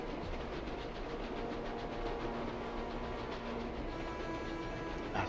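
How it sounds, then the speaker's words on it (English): A slow-moving train rolls steadily along the tracks in the Captain America: Super Soldier video game, a continuous rumbling clatter with faint rhythmic wheel clicks and no voices. "That's a slow moving train."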